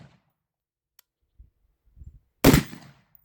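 A single semi-automatic shot from a BCM 11.5 AR-type rifle, a sharp loud crack followed by a short decaying echo, preceded by a few faint clicks and handling noises.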